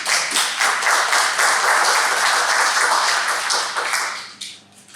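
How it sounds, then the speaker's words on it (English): An audience at a Toastmasters club meeting in Dubai gives a loud, sustained round of applause for the speakers, dense clapping that fades out at the end. "Let's give them another big round of applause"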